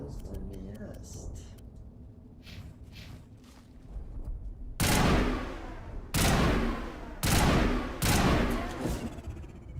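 Auto rifle fire in the Mass Effect video game, four loud bursts of shots in the second half, preceded by quieter talking and faint game sounds.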